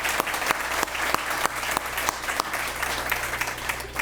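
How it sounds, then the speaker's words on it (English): An audience claps steadily at a morning community program, a close, dense round of applause with some distinct sharp claps standing out over a low background hum. "let's give them a round of applause for sponsoring."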